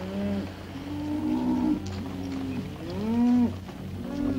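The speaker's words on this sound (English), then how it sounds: "Keep the cattle moving." Cattle low and moo repeatedly while a herd is driven along, several drawn-out calls rising and falling close by over a steady rumble of movement, with no voices.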